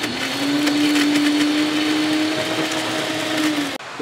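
Kitchen mixer grinder blending tamarind, turmeric, jaggery and ginger, a steady loud whirring drone for several seconds before cutting off abruptly near the end.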